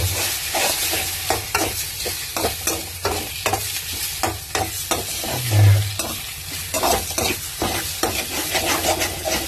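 Egg and drumstick leaves sizzle steadily in a pan while a utensil stirs and scrapes through them in repeated close strokes, the constant hiss of frying continuing underneath without talk.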